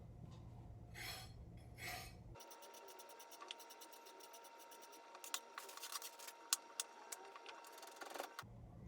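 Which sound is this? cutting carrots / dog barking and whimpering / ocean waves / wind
cutting carrots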